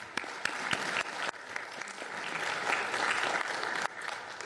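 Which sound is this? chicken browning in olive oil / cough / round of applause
round of applause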